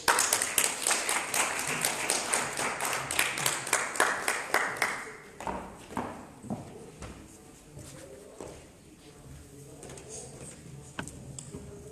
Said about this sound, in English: Another big round of applause for Patsimo